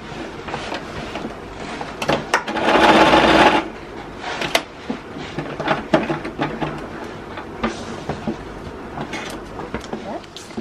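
Sewing machine stitching a collar seam, the corner of a grown-on collar cut in one piece with the bodice, with a few short bursts of mechanical whirring and a sustained louder run in the middle, amid clicks and handling noise.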